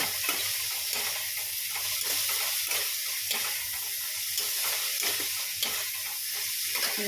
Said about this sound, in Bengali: ডিমের মশলাটা কষাচ্ছি